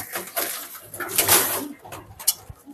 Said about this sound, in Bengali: এই দাপড়িতেও মাশাআল্লাহ কিন্তু অনেক সুন্দর সুন্দর কবুতর আছে